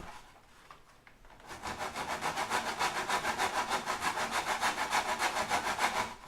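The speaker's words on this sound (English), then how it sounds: "So plywood at pretty much any thickness is pretty tough stuff. It takes a lot of effort to cut through." A back saw cuts through plywood in fast, even push-pull strokes. The rasping is close and steady and starts after a short quiet moment, with no voices.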